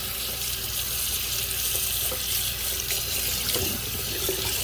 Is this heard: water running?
yes